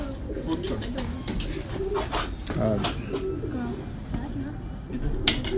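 Lakha crossbreed pigeons coo softly in short repeated phrases, close by, over steady background noise with speech-like murmur in the surroundings.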